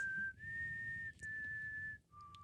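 A person whistles an imitation of Rue's signal from The Hunger Games, a sustained clear tone holding steady, briefly breaking, then resuming before dropping to a shorter, lower note at the end.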